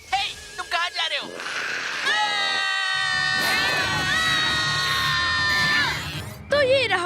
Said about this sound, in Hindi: इस वीडियो में तो बस ऐसा लग रहा है कि कुछ बच्चे मिलकर सिर्फ चिल्ला रहे हैं।